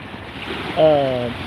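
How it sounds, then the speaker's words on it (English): Ocean waves wash in steadily, a soft broad rush that swells briefly into a louder surge, near and alone with wind-like noise. "I love the waves"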